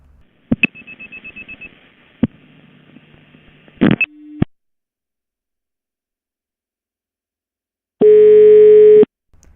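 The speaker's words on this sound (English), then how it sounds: "The following is a call to a number on the main switch." Call progress signals on a Ukrainian or Russian crossbar telephone switch: short tone bursts, a clicking relay sequence, a brief tone, then silence before a loud steady ring tone, all clean and isolated.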